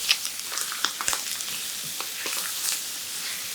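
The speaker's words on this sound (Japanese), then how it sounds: "はい、皮に焼き色を、この焼き色がうまみに変わりますので、" Chicken thighs sear skin-side down in a hot pan over high heat, giving a quiet, steady sizzle with scattered crackles and pops.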